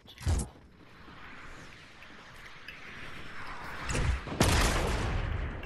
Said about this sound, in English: there's a team on that tall hill, East 105, shooting a grenade launcher